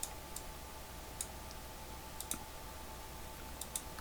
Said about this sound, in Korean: 클릭 이렇게 되는 거예요.